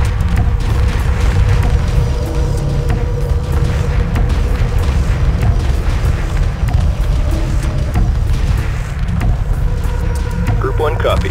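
Space battle explosions in Homeworld Remastered roll as a dense, continuous booming rumble. Brief game radio voices surface now and then over the din.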